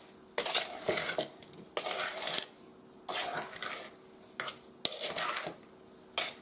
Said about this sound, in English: now we're just going to stir that a little bit. Make sure it all gets incorporated